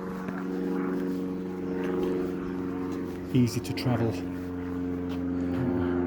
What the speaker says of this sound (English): You'll probably hear the plane.